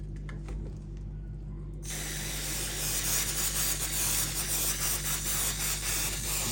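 Aerosol cleaner sprayed onto the rear differential of a Schumacher Mi8 RC car, beginning after a quiet moment and then a loud, continuous close hiss that holds steady to the end.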